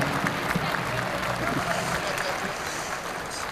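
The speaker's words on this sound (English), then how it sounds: "a big round of applause for Jerry Fairman and Swiss Re" A crowd at a women's basketball game against North Dakota State applauds steadily, a dense, loud wash of clapping from a full arena with no pauses.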